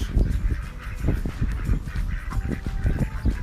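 Several domestic ducks quack and honk close by, a dense run of overlapping calls that goes on almost without a break, with no talk over them.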